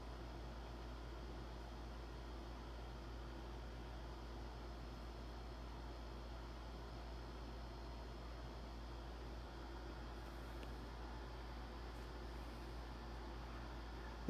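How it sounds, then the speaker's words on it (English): A living-room air conditioner runs with a faint, steady, broadband hum that stays unchanged for the whole stretch, with no voices over it. "I apologize for the background noise, by the way. That's my air conditioner in the living room."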